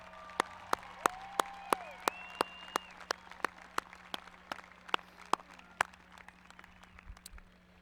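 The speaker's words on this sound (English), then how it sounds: "give that group one more round of applause," An audience at a high school graduation applauds, sustained clapping with distinct sharp claps over a steady hum, sliding whistle-like tones early and the applause tapering toward the end.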